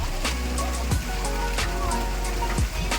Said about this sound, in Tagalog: Madalas na naulan kasi ngayon basta mga January to February